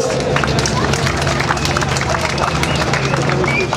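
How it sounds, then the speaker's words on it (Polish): Crowd clapping for a rally crew at a stage event, dense continuous applause and outdoor crowd noise, with someone talking over it. "Duże brawa dla chłopaków"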